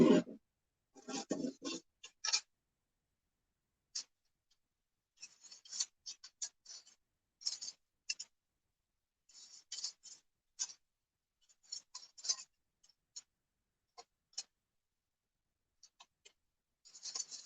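Scissors snip through a paper sewing pattern for a vintage top, cutting lines and darts, in a steady series of short, crisp cuts with brief pauses, close and fairly quiet with no talking.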